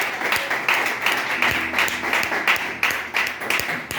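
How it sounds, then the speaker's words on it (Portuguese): Church congregation applauding together, a dense, steady wash of many hands clapping close by, holding loud for the whole stretch without a break. "aplauda ao Senhor Jesus nessa noite"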